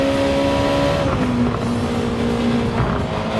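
Race cars in Gran Turismo 7 at Spa, steady loud engine drone with a pitch shift as cars jostle for position, continuous and close throughout.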